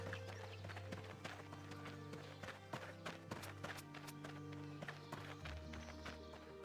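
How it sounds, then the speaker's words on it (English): Horse hoofbeats in the RuneScape 3 video game: faint, quick overlapping clip-clop taps repeat irregularly over a low steady hum, with several hooves at once, no voices. "these hoofbeats everywhere"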